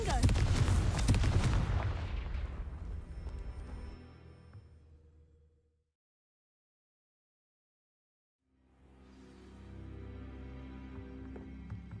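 Confringo blasting spell explosions in Hogwarts Legacy: a loud, close blast that rumbles and decays over a few seconds into silence, followed by a low roar of renewed game sound.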